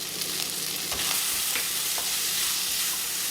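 Curry leaves, ginger paste and asafoetida sizzle and crackle steadily in hot oil in a pan, with the soft scrape of a spoon stirring through them for a few seconds and no voices.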